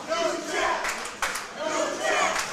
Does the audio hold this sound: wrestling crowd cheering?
yes